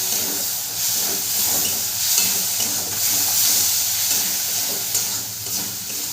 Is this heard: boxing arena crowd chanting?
no